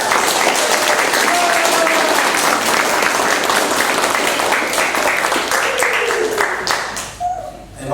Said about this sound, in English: let's give her and everyone else an